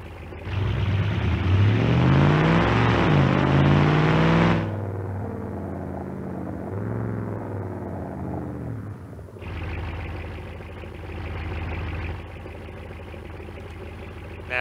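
A car engine in the BeamNG.drive video game revs loudly and rises in pitch during a drag test, eases back to a lower rumble, then surges again, with no talk.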